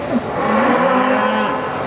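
A Poll Hereford beef animal, a naturally polled breed developed in the USA, lets out one loud, drawn-out moo close by at a cattle show, the call rising and falling over about a second and a half.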